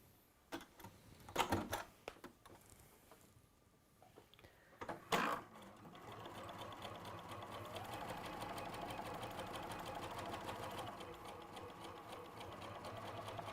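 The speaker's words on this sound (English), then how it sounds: "we're going to sew 1/4 inch either side of that line" A sewing machine stitches a quarter-inch seam on teal quilting fabric, starting with a few loud clunks and short bursts, then settling into a steady, fast rattling run that continues to the end, with no talk.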